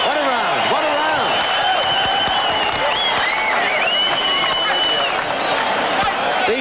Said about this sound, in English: does the crowd love it? They're on their feet